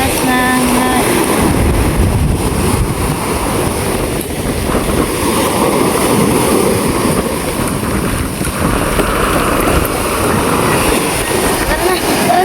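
Strong storm wind roars steadily and loudly during a typhoon, a constant buffeting rush with no pauses, as faint voices talk beneath it.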